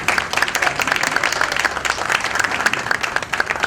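Applause from an audience gathered at a coaching-class event marking Yoga Day and a ration distribution, dense steady clapping that continues through without pause, with no talking over it.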